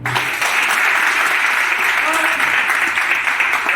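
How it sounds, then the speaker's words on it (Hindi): Loud, dense applause from an audience at a direct selling talk, a full sustained roar of clapping that begins abruptly and continues strongly throughout. "जोरदार तालियां सर के लिए"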